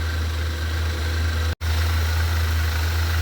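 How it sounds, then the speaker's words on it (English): Car engine idling with worn bearings in the tensioner pulley, a steady close low hum with a constant whirring, broken by one brief cut in the sound partway through, no voices. "the bearings in that tensioner pulley are going bad"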